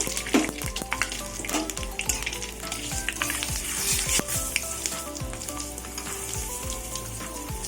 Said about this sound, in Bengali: তেল গরম হয়ে গেছে শুকনো লঙ্কা তেজপাতা আর পাঁচফোড়ন দিয়ে দেবো